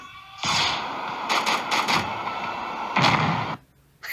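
Rapid bursts of gunfire in the Henry Stickman video game, loud and close, several volleys in quick succession with brief gaps, then cutting off.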